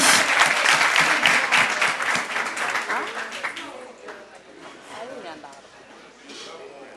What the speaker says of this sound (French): On applaudit Dr Condé.